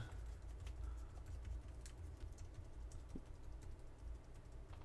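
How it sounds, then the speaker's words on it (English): Rapid, irregular clicking of keys being typed on a Samsung Chromebook Plus v2 laptop, fairly close and steady, with faint background ambience and no talking. "test the keyboard out."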